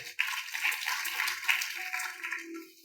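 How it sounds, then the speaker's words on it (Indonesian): A church congregation breaks into enthusiastic applause, a steady, dense wash of clapping that runs unbroken from start to finish at moderate loudness with no talking over it. "Yes, tepuk tangan yang paling meriah."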